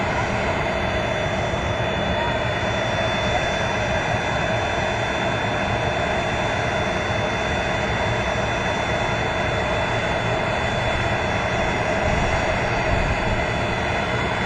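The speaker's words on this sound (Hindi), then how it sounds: "अब से कुछ ही सेकंड के अंदर जो प्राइवेट जेट है यो हवा से बात करे वो" A private jet belonging to Ajay Piramal takes off from Jhunjhunu. Its steady, loud jet-engine roar holds without a break for the whole stretch.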